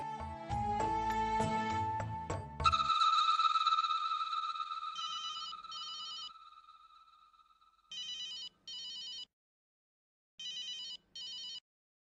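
A telephone rings in repeated double bursts with pauses between, fairly faint, after a brief stretch of louder sound at the start.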